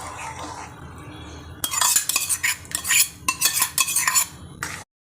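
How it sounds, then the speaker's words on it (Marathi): A spoon stirs soaked gram flour into a pot of boiling water, scraping and clinking against the metal in quick, close bursts after a quieter opening, then stopping abruptly. "त्याला छान आपण मिक्स करून घेऊया"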